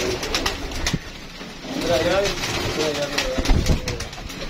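Pigeons at home, with young birds nearby, cooing in soft repeated warbling calls close by while someone talks over them.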